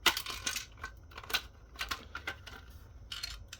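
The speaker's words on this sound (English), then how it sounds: "there's the plastic metal bit that's rattling around" A loose plastic and metal piece rattles inside a VeriFone Omni 5700 credit card terminal with receipt printer: faint, irregular clinks and ticks in quick clusters, close by and quiet.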